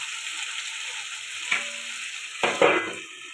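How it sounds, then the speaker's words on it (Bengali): Chicken pieces sizzle softly in a covered pan as they are braised, with a couple of sharp stirring scrapes and clatters breaking through the quiet frying hiss. "চিকেনটা কষিয়ে নিয়েছি, এবার ঢাকা দিয়ে দিয়ে কষাতে হবে।"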